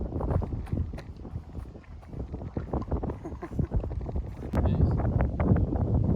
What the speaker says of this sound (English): The wind is getting loud